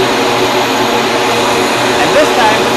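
Steady, loud rush of air drawn through an AEM Cobalt SS intake on a flow bench at about 300 CFM, a continuous broadband roar like a vacuum cleaner that holds constant throughout.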